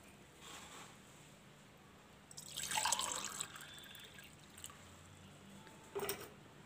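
Water is poured into a homemade onion liquid fertilizer for plants, a faint splashing pour swelling for about a second with a few small drips after.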